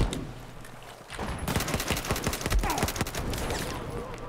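A light machine gun in a video game rips into a long sustained burst of rapid, close, loud shots after a quieter opening second, continuing steadily to the end.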